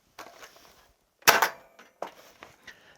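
A LEHUI TOYS M416 shell-ejecting toy blaster fires one sharp, loud snap, followed by softer plastic clicks and rattles of the mechanism and an ejected shell, close up with no talking.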